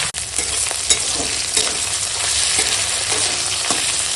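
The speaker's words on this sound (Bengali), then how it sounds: "আর দেখো ভেন্ডিটা এখন এরকম ভাজা হয়ে গেছে" Okra frying in mustard oil with salt and turmeric in a wok, a steady close hiss of sizzling with faint scraping stir clicks throughout and no voices.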